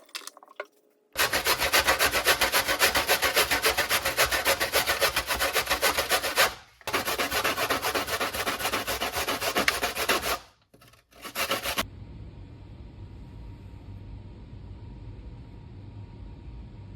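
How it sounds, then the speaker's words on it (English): Coconut pieces shredded on a grater in loud, fast, rhythmic rasping strokes, two long bursts broken by a short pause, then fading to a quiet hum once the scraping stops. "What I'm going to do now, guys, is give them a rinse and shred them"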